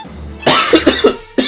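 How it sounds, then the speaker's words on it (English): A single close, loud cough burst followed by a few short raspy hacks and a breath, from someone just waking up. "I hate when I wake up with that cough."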